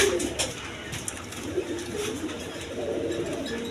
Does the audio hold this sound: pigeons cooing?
yes